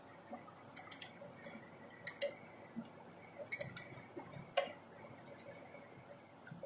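A spoon clinks against a cup or glass while stirring honey into ginger kahwa, giving a scatter of light, irregular metallic ticks over a quiet background with no talk.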